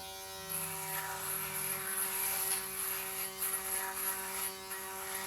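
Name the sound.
Laifen electric razor running while shaving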